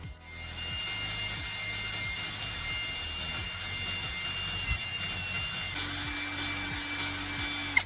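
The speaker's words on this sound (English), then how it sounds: "Run the drill again and allow the mixer to blend everything evenly." A steady power-drill whir with a mixer attachment runs continuously, a low grinding churn of cement and paint being blended beneath it, close and constant throughout.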